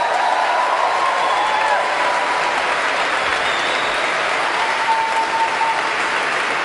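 Sustained applause from the Class of 2012 graduates at Princeton University's commencement ceremony: a dense, even roar of many hands clapping that continues without a break.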